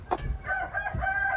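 Rooster crowing at close range, a loud drawn-out call on a farm with fowl nearby, heard alone without talk.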